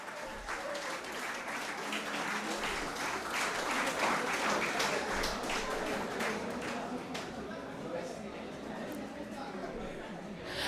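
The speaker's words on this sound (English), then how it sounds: "I request all to give a big round of applause" An audience at a management institute graduation day gives a big round of applause for the Best Outgoing Student award: fairly faint, steady clapping lasting several seconds, with murmured chatter mixed in.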